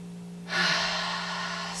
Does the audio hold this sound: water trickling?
no